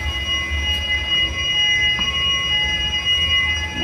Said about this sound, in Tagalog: Yan yung alarm natin.